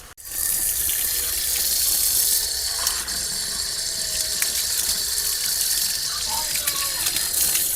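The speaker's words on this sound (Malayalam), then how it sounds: "ഇപ്പോൾ ഷവറിൽ വെള്ളം വരുന്നുണ്ട്." Water pours from a shower in a strong, continuous rushing hiss, loud and close, holding steady from just after the start to the end.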